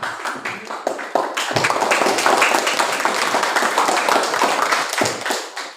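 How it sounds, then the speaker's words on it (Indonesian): Students in a classroom applaud group 1 with a lively round of clapping that starts as a few scattered claps, swells into dense steady applause, and tapers off near the end, with faint voices underneath. "tepuk tangan untuk kelompok 1."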